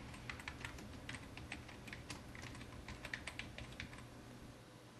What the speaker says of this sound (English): I'll type something in here.